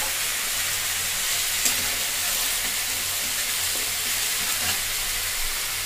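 Ginger paste frying in a pan for a Bengali tangra catfish curry, a steady loud sizzle and hiss with faint stirring scrapes, continuous and close.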